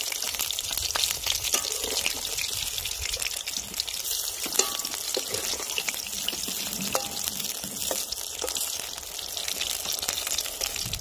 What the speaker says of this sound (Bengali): আমাদের চিংড়ি মাছের চপটা কিন্তু ভাজা হচ্ছে